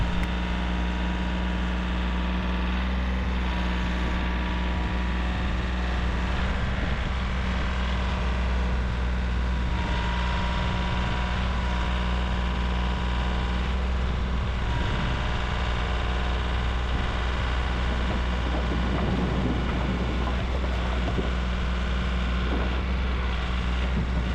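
A heavy diesel tractor engine drones steadily at close range while carrying a firewood bucket, a constant low rumble with slight shifts in load and no voices.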